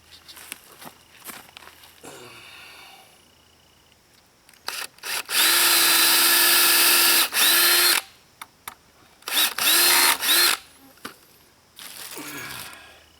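A power drill drives screws into a pallet wood picket fence gate, with several loud, close bursts of whirring of a second or two each, separated by pauses, handling noises and footsteps.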